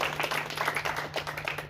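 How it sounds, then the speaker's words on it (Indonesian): Audience clapping at a community meeting in a village hall, a steady patter of many hands close by with a low constant hum underneath, no speech. "Tepuk tangan untuk ketua dulu."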